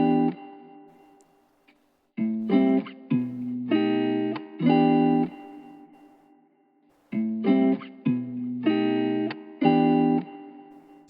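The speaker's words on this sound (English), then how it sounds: "So I first had to put this guitar down." Distorted electric guitar plays two short chordal phrases separated by a pause, bright and heavily processed with effects, forming the intro part for an AI-made song, with no voices.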